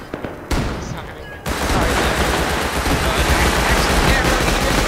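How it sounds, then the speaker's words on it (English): Gunfire in a video game, a loud dense burst of rapid shots starting abruptly and continuing steadily, with a brief quieter gap early on. "Coming in, that's me shooting fire."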